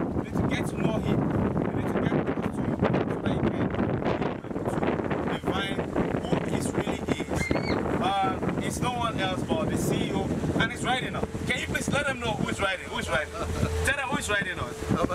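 A boat on the sea for a pleasure ride, with steady engine drone, water wash and strong wind buffeting the microphone throughout, and people talking over it.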